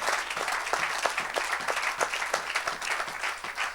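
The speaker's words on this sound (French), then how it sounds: "Acclame pour Jésus." A church congregation claps for Jesus during a service, steady dense applause from a crowd filling the room throughout.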